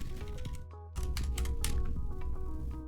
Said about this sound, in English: I'll be typing switches.